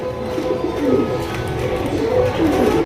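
Indian pigeons for sale cooing close by, a soft, continuous run of low throaty coos from more than one bird overlapping for a few seconds.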